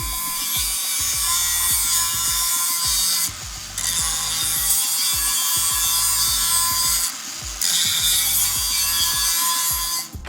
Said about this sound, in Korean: 그라인더 소리 들어보면 아시겠지만 딱 갖다 대면 윙 소리가 줄잖아요